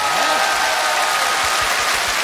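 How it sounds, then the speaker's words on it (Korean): Broad, sustained applause from a studio audience at a Korean TV singing contest final, a dense even wash of clapping lasting a couple of seconds with a brief voice at the start. "박수 한번 크게 주십시오."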